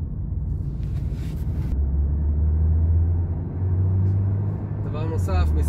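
A 2020 Kia Niro hybrid cruising on the road gives a steady, low cabin rumble with road and tyre hum that swells slightly midway, while a voice talks over it.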